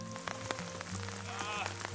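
Rain falls steadily outdoors at a ropes course in Tallahassee, Florida, a continuous hiss with scattered drop ticks, joined by faint background murmur and a brief high whistle-like tone near the end.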